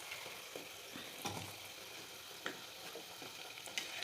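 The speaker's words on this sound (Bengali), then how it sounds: "এর মধ্যে খালি কাপটা ডুবিয়ে কাপের মধ্যে ভরে নিয়ে এবার গরম তেলে আস্তে আস্তে ছাড়তে হবে।" Pitha batter sizzling as it is eased into hot oil for Bengali fried pitha, a steady faint crackle with a few sharp clicks of a cup or utensil at the pan.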